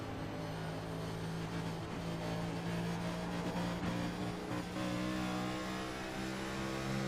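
Race car engine in the iRacing sim, heard on board during a premier series event, droning steadily with sustained harmonic tones and slight throttle swells, loud and continuous with no talk.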